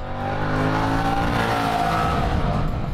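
A Moto Guzzi V100 Mandello V2 motorcycle gives a deep, bassy exhaust note that swells and rises as the engine revs up, loud and close with no talk.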